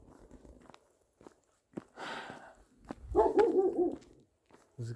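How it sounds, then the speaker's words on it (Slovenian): Dogs barking outdoors on a long walk toward Bosnia: a few scattered barks and yips, then a louder burst of barking near the middle, mixed with footsteps and quiet gaps, fairly close but not loud. "te psi tako so blesavi?"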